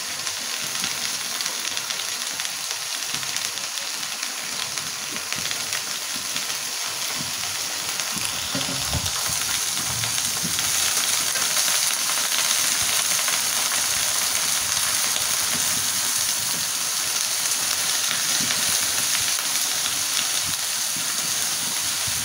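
Bottle gourd greens and potatoes fry in a pan, a steady close, loud sizzle running throughout with brief stirring scrapes around the middle.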